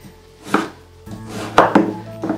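A knife chops a potato into small pieces on a board, three or four sharp, close cuts spaced unevenly with quiet pauses between them.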